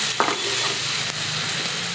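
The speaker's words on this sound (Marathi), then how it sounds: "तर आता हे आपण बटाटे आहेत ते छान मिक्स करून घेऊ." Fried potatoes and onion sizzle in a pan under brief scraping stirs, the frying hiss loud and continuous.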